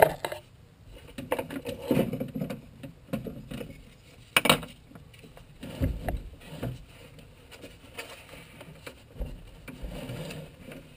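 A car battery slides back into its holder in a teardrop trailer: a series of close scraping, knocking and rattling thumps of the battery case against its metal tray, irregular and fairly quiet.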